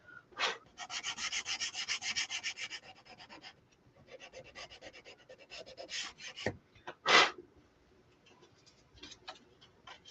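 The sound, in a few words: sanding the edge of a car charm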